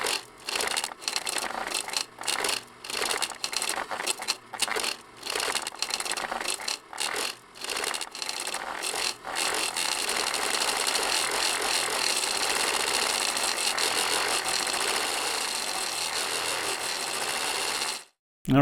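Ice sounds reworked through granular synthesis in Alchemy, with grain size, density and tap settings altered: choppy, stuttering crackles and clicks give way to a dense, continuous granular wash that holds steady and then cuts off.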